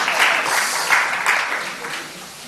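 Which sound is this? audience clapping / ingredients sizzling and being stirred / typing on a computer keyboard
audience clapping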